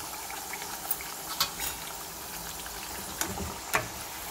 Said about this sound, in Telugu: శనగపప్పు అన్నీ రెడీ అయినాయి, ఫ్రై అవుతున్నాయి చూడండి